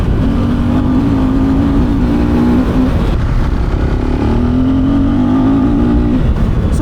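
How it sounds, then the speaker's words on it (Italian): A KTM 890 Adventure R motorcycle engine on the ride, a loud close drone that climbs in pitch under throttle, eases off between pulls, then revs up again, with heavy wind rush throughout. "Avere il motore che puoi darglielo senza aver problema di andare in terra perché c'è troppo gas."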